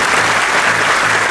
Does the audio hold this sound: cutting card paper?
no